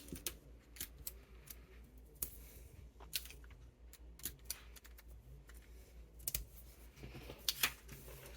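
Scissors cut fabric along the hem of a raglan sleeve, making quiet, crisp, irregular snips and clicks that sound close by in an otherwise hushed room.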